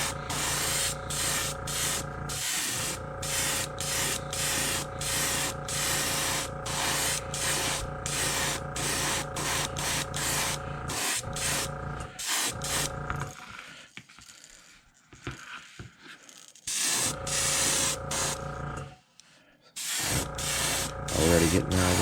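An airbrush sprays transparent red paint onto a crawfish crankbait fishing lure in long hissing bursts with a rhythmic mechanical pulsing, close and loud, stopping briefly midway before spraying resumes, while someone talks.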